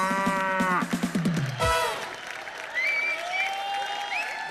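A buffalo lets out a long, drawn-out moo on a comedy stage show, falling in pitch before a studio audience breaks into applause and cheering that carries on to the end.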